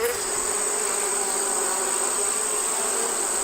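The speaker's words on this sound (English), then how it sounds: "all 30 were alive and overflowing with bees" Honeybees swarm around thirty wintered hives in a bee yard, making a loud, steady, dense buzzing hum that stays close and continuous throughout.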